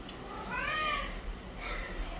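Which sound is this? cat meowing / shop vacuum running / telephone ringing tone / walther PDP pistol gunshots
cat meowing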